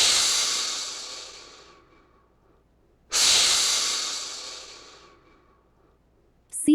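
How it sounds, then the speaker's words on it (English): A crocodile gives two long, breathy hisses, each starting sharply and then slowly tapering off, separated by a moment of quiet. Both are fairly close and heard alone. "Crocodile makes the sound."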